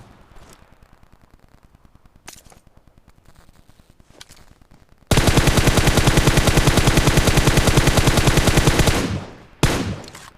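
M4 rifle fire in Battlegrounds Mobile India: faint rapid shots at first, then a loud sustained close-range automatic burst lasting about four seconds, followed by another short burst.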